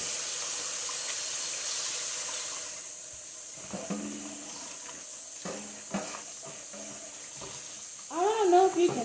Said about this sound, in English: And you just want to go ahead and start rinsing. You can use cold water.